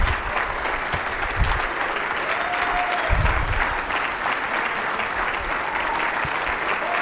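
Sustained applause and cheering from an audience giving a standing ovation to Nevada Governor Joe Lombardo at an IndyTalks event, a dense steady wash of clapping with a few low thumps throughout.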